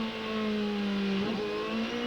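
A 2007 Champ Car at the Mont Tremblant road course drops to first gear for the slowest corner: a loud, close engine drone shifts abruptly in pitch partway through, then settles into a steady new tone.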